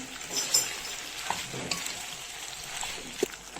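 Pasta being stirred into a minced-meat sauce in a pan, with soft wet scraping and sizzling, scattered utensil clicks and a few sharper knocks over a low simmer.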